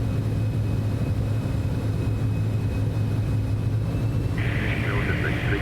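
Steady, moderately loud drone of a Citation X business jet's engines in a flight simulator, holding an even roar throughout, with a faint higher whine entering near the end.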